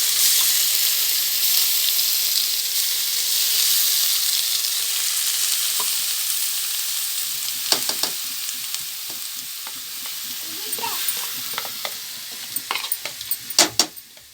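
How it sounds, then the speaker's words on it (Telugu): Freshly grated coconut frying in melted ghee over low heat, a steady hissing sizzle that turns to clustered scrapes and clinks of a spoon stirring near the end, close and alone. "పచ్చి వాసన బాగా పోయేదాకా వేయించుకోవాలి నెయ్యిలో"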